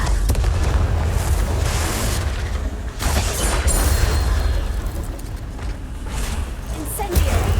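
Repeated Confringo explosion spell blasts in Hogwarts Legacy, heavy booming bursts with fiery crackle arriving every few seconds over a constant low rumble, loud and close, with game effects layered in.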